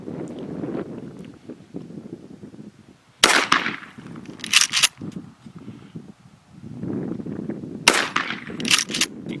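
Gunshots at an outdoor shooting range, two sharp loud reports a few seconds apart, each followed by a quick echoing crack, with people talking quietly in between and wind buffeting the microphone.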